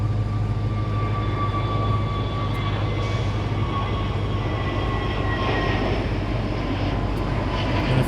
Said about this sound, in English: Absolutely stunning sunset takeoff there.